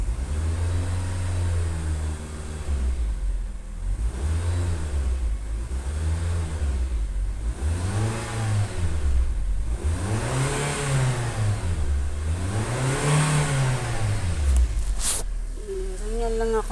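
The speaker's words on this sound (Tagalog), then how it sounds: "Ganyan lang ako, mag-revolution lang ako ng kotse." A car engine revs repeatedly in a narrow alley, the pitch climbing and falling in steady waves every couple of seconds, loud and close, with a brief sharp click near the end.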